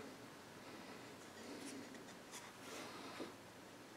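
A knife scoring a mark along a square-cut edge on a wooden piece for an electronics tool box, heard as soft, faint scratchy strokes close by with a few brief louder scrapes, no talking.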